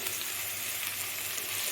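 Onions, curry leaves and green chillies sautéing in a pan, a brief, soft, even sizzle with a faint crackle and no speech.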